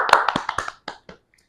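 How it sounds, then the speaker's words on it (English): A short burst of hand clapping celebrating Ghana's 2-1 win: about eight quick, close, crisp claps in an uneven rhythm, tapering into a couple of final claps before silence. "Clap for Ghana."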